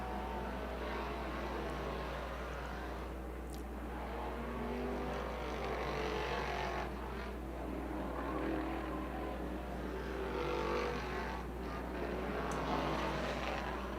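Race cars running hot laps around a dirt short track at Bridgeport Motorsports Park, a steady distant engine roar that swells and fades as the field circles, with no talk over it.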